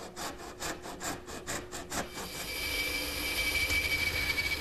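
A handsaw cuts the back shoulder of a wooden tenon for a Morris chair, with about a dozen rhythmic rasping strokes up close, then a steadier, smoother grinding rasp as the cut continues.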